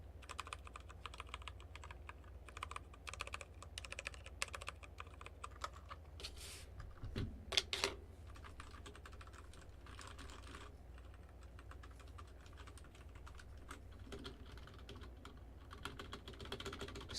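Typing on a budget mechanical keyboard fitted with in-house RK Red switches, a close, quiet, steady patter of keystrokes with brief louder clacks and no talking.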